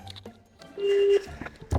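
A phone call being dialed, with brief tones and a sustained beep heard faintly and close, a few soft clicks around it.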